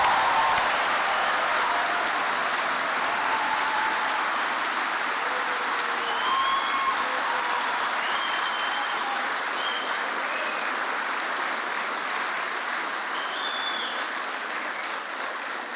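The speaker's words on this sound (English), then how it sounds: "Final round of applause is to the graduates themselves" Sustained applause from a graduation ceremony crowd at Queens University Belfast, steady and full for the whole stretch, with a few faint whistles or cheers rising above the clapping.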